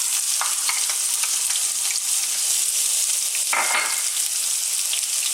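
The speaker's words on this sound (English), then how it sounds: "Now we're going to add our onions" Onions sizzling loudly in hot oil infused with cumin seeds while cooking saag aloo, a dense continuous crackle and hiss close up, with a brief surge of spattering partway through.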